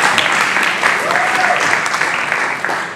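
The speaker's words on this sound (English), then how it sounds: "Big round of applause for Gene Park" A round of applause for a speaker at a café gathering on homelessness in Hawaii, loud, dense clapping that holds steady, with a faint voice briefly rising through it.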